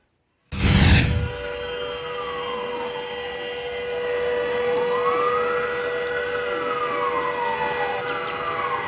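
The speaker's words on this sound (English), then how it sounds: "Cars, trains, and ships sounded their horns, and air raid sirens rang out" Air raid sirens wail across China during a nationwide three-minute silence for coronavirus victims, a steady rising and falling siren tone holding throughout after a brief loud burst at the start, with horns sounding beneath.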